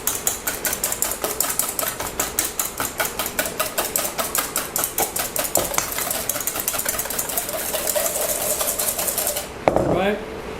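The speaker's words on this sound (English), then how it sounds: "Whisk that up." Egg white whisked in a bowl for gnocchi, a fast steady rattle of rapid metallic strokes against the bowl going on for about nine seconds before stopping with a final clink.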